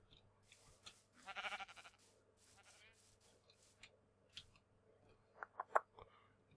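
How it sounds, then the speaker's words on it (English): A Minecraft sheep bleats in a game world, a few short, faint bleats scattered among quiet clicks and soft game sounds, with brief talk in the background. "Sheep."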